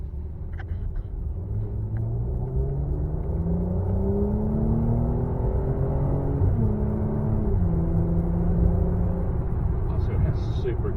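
An Encore Motors car pulls hard from a standstill to 70 under automatic shifting, its engine note climbing steadily, dropping at each gear change and rising again, a close continuous rumble with occasional talk.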